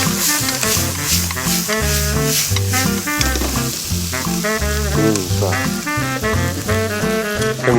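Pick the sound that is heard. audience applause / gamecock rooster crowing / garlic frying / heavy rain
garlic frying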